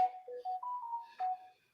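Mobile phone sounding a short melodic tone for incoming messages, a few clear stepped notes, fairly quiet and alone.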